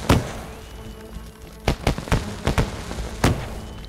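C4 explosives going off in the DayZ video game, heard as a string of sharp, punchy blasts at uneven intervals, a few close together and one strong blast at the start, without speech over them.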